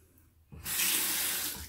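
Tap water runs into a bathroom sink for rinsing after a shave, gushing on abruptly after a brief quiet moment and continuing steady and close.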